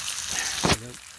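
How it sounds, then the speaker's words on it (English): Organic lamb steaks sizzle loudly in a hot pan, a dense crackling hiss with a brief clatter partway through. "Sizzling lamb steaks, organic."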